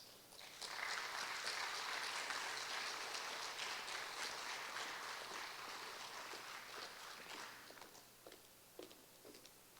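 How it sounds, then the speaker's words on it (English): Applause from a pageant audience welcoming contestants back after a preteen formal wear competition at a Herbstfest queen pageant: a broad wash of clapping that swells quickly, holds steady, then thins into scattered claps near the end. "Let's welcome the contestants back and give them a big round of applause."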